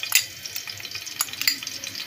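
Ginger garlic paste fries in hot oil in a kadai, a close, busy sizzle full of rapid crackles and spits with a few sharper pops.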